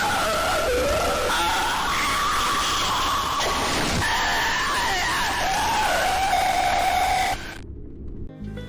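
A character's sustained, distorted scream in the video game Poppy Playtime wavers over harsh static and noise, continuing for several seconds before cutting off abruptly into near silence.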